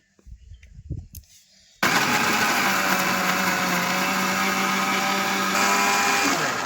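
Spinach with lemon being ground in a mixer grinder for palak paneer, starting after a few soft handling knocks with a sudden loud, steady motor whine that runs on continuously, its pitch stepping slightly near the end.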